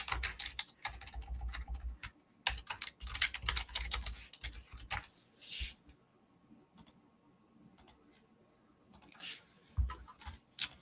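Rapid bursts of keystrokes on a computer keyboard as a password is typed, loud and close, in uneven runs with short pauses and a few isolated taps toward the end.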